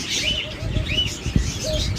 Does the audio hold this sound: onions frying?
no